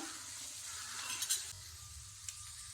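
Chopped chicken with salt is stirred in a pan, giving a soft frying sizzle with a few light scrapes and clinks from the spoon against the metal.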